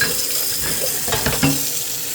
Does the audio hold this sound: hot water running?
yes